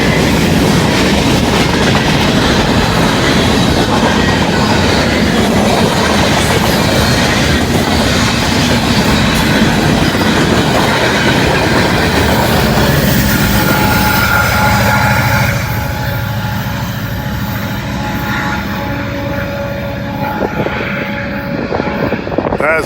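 A fast freight train roars past close by with heavy continuous rumble and wheel clatter, then fades slightly into a lower, steady rolling noise as it moves on.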